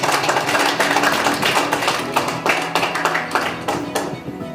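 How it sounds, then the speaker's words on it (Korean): Audience applause at a party founding assembly in a wedding hall, steady dense clapping from many hands, loud and continuous before slowly thinning out. "많은 박수 부탁드립니다."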